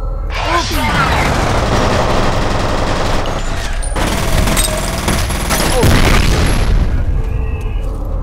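Assault rifle fire rattles through a F.E.A.R. firefight, heavy booming bursts and rapid automatic shots running continuously and loud, with game effects layered underneath and a voice talking over parts of it.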